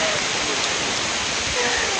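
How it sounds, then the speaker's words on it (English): Heavy rain pouring down on a Great Smoky Mountains hiking trail during a llama trek, a dense, steady, close hiss with no let-up. "It's very rainy now. It is kind of a downpour."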